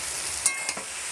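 Pasta is stirred into frying spices, soy sauce and tomato sauce in a pan, giving a soft sizzle with a couple of brief scraping clinks of the spoon against the pan.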